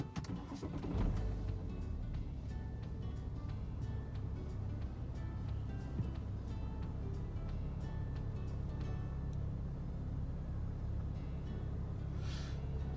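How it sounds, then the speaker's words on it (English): A BMW 530d with an N57 diesel engine cranks into life and settles into a steady, quiet idle, a low continuous rumble with faint clicks and a brief hiss near the end. "So let's just turn it on and start the car"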